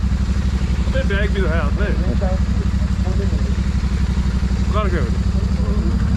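A motorcycle engine runs steadily with a continuous low, rapid throb on a mountain road ride, while people talk over it.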